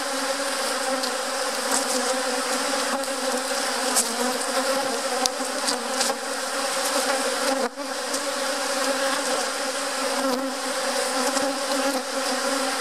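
Honey bees buzz in a dense, continuous drone while a hive is opened and split, close and steady throughout, with no talk.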